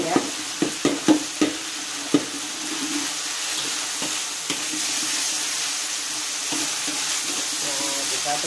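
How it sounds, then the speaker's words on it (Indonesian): Minced beef and green beans stir-fried over high heat in a pan, with a steady close sizzle throughout and a few sharp spatula clinks and scrapes near the start. "Nah, kita tumis-tumis sampai dia matang."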